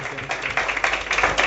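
Congregation at a Hindi-language church service clapping loudly in welcome, a dense, continuous wash of many hands with rising bursts, close and steady throughout.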